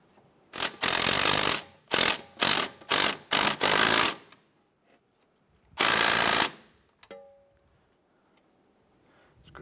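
A ratchet runs a nut onto the sway bar end link of a 2012-2017 Toyota Camry's suspension, with several quick close bursts of clicking followed by one longer run and then near silence.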